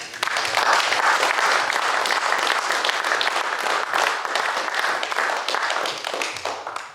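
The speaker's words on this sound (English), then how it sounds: "So, a round of applause." Reunion guests in a pub applaud the organisers, a dense sustained burst of clapping filling the room at close range and fading slightly toward the end.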